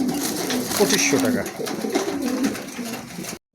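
Uzbek tumbler pigeons coo softly in the background while someone talks over them in Bengali nearby, the birds' low calls mixed with steady room noise.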